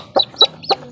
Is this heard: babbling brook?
no